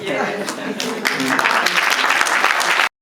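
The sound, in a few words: audience applause at a cinema premiere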